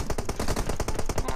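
Rapid bursts of automatic gunfire in a mobile shooter game, loud and close, with evenly spaced shots rattling through the whole moment and no talk.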